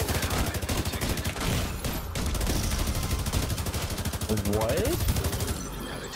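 Rifle fire in The Division 2 PvP: dense, continuous automatic shooting for several seconds, loud and close, with other weapons mixed in and a brief spoken word.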